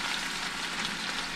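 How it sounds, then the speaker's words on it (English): Smothered potatoes fry in a pan with a steady, close, even sizzle and crackle that holds without a break throughout. "It's frying at the bottom."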